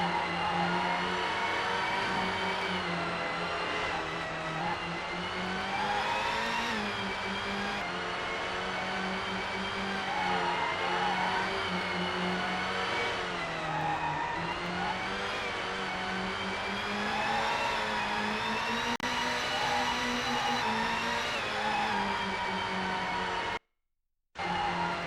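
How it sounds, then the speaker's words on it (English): Race car engine in the GT 64 video game, a continuous loud synthesized drone whose pitch climbs and falls with each shift, plus occasional brake squeals, cutting out briefly near the end. "Doesn't seem like there's any music, just the engine and the squealing brakes"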